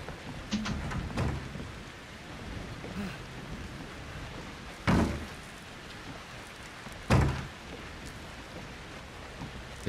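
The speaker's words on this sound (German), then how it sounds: "Das ist eklig mit so einem blutigen Regen." Bloody rain falls in the horror game Outlast 2 as a continuous hiss of rain. A couple of louder thuds stand out, and no speech is heard.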